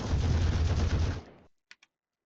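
A dense, rapid barrage of punching impacts from a stand in the Minecraft Jcraft Eyes of Ender mod, loud for about a second and a half, then cutting off, followed by two faint quick clicks.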